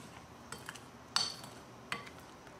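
A spoon mixes besan (chickpea flour) batter in a bowl, giving a few faint, scattered clinks and scrapes against the side.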